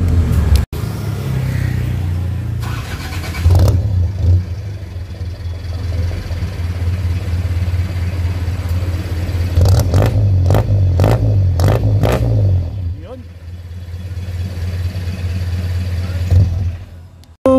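Jeepney engine, Biñan type from Batangas, fitted with a free-flow muffler, idling with a low rough rumble and giving a few sharp bursts of revving midway, with people talking faintly around it.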